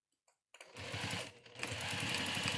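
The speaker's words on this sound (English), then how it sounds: "and now I'm going to stitch it down." After a quiet start, a sewing machine starts up and stitches down a folded edge on a pleated face mask, a close, continuous rapid whir with a brief slowdown partway through, and no talking.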